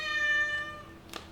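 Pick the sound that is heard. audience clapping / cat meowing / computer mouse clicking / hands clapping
cat meowing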